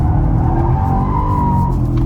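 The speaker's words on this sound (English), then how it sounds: "130, car goes sideways." A BMW M5 G90 slides sideways while drifting on tight roads, its tires squealing in a wavering high whine over a loud, steady engine roar close by.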